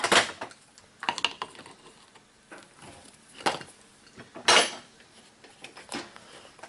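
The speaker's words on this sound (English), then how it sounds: "We'll take the wrench, we'll take the nut off." A wrench works a nut off a small tire mounted on a vise-based homemade tool, heard as close, irregular metallic clanks and ratcheting clicks in bursts with quiet gaps, and no talk.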